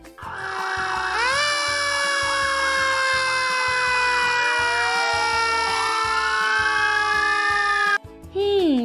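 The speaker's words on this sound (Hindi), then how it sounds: "हाँ, ये फायर इंजन का सायरन है ना?" A fire engine siren wails continuously, its pitch rising and sweeping steadily, loud and close, with a brief break near the end.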